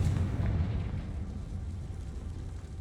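A Confringo fire spell explosion in the Hogwarts Legacy video game: a single low, rumbling blast that fades out over a couple of seconds, fairly quiet and heard alone.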